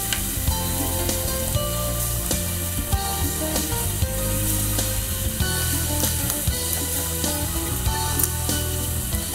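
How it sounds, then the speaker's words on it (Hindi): Pumpkin frying in hot ghee for kheer, a dense continuous sizzle with frequent crackles and spoon-stirring scrapes, loud and close with no talk. "ये हमारा घी गर्म हो गया है, अब हम इसमें कद्दू डालेंगे और खूब अच्छे से ये कद्दू लाल होते तक भूजेंगे"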